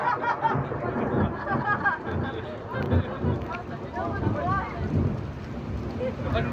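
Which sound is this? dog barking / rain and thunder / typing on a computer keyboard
rain and thunder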